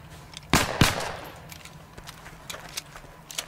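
Two sharp, loud shots from a fast-firing video game weapon crack out close together near the start, then fade into a softer, busy background of faint clicks and pops.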